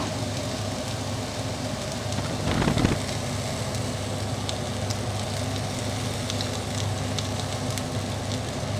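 Chopped onion hits a hot pan for baked hake in onion sauce and sets off a steady, close, broad sizzle that swells briefly at the start and then settles into a continuous hiss.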